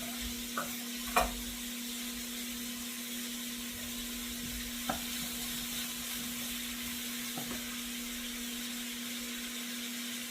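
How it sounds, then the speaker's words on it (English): Onions and celery sizzle softly in melting butter in a pot for clam chowder, a faint steady frying hiss over a constant hum, with a few light clinks of a utensil stirring. "We're going to go ahead and saute the onions and the celery, and our butter is beginning to melt"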